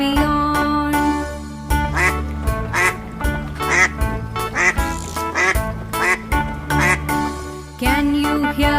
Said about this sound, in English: Quack, quack says the duck in the pond